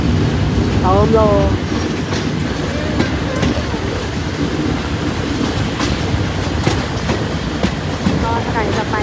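A Thai ordinary-class passenger train, number 252 from Salaya to Thonburi, rumbles steadily along the rails from on board, with clattering wheels and brief squeals, while people talk over the constant noise.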